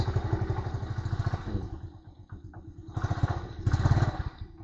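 A small, old TMX motorcycle engine idles with a steady, rapid valve ticking, revving up a little a couple of times, close by and fairly loud.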